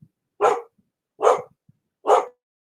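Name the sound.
dog barking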